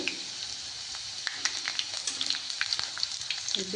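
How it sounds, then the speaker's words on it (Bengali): Garlic sizzling in hot oil while it browns to a reddish colour, a soft hiss dotted with sharp little pops and a brief utensil scrape near the end, quiet and close. "রসুনটা লাল লাল করে ভেজে নিতে হবে"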